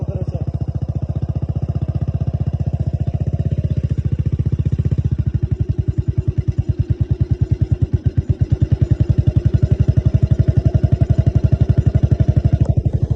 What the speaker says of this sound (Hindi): और कितने कम मतलब स्लो चक्कर में तैयार कर रखी अपनी बाइक